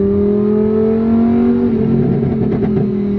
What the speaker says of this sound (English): I can finally listen to that beautiful V10 without rattling noises